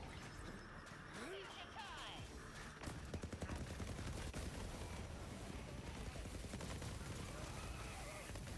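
Rapid projectile fire from the Dictator weapon in a sci-fi shooter video game, a dense continuous stream of shots that grows louder midway and keeps going, with in-game effects mixed in.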